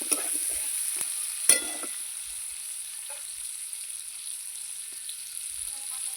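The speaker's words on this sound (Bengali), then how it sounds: "পেঁয়াজ আর আলু ভালো করে আমি ভাজবো" Potatoes and onions frying in oil in a pan, a steady soft sizzle with a few sharp clinks of a stirring utensil early on, otherwise calm and continuous with no talk.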